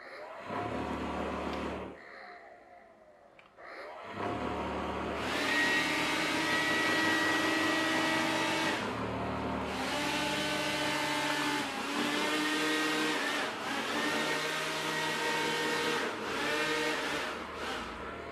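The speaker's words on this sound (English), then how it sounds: "The button on the top is the one that turns the fan motor on and off, the lift motor" The lift fan motor of a Fuhai Jingpin CRS ST hovercraft whirs with a steady, high, vacuum-like whine. It cuts out for a moment, then spins back up and holds a loud, even drone close by.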